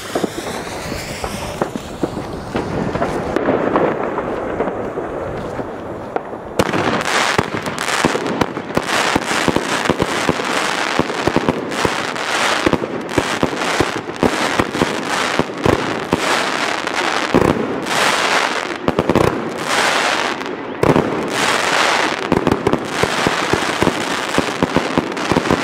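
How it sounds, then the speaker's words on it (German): A 6-inch cylinder firework (Polenböller) unleashes a loud outdoor barrage: a faint hiss, then a dense, continuous run of booms and crackling bursts that rolls on for about twenty seconds. "6 Inch Zylinder, dicke Boom."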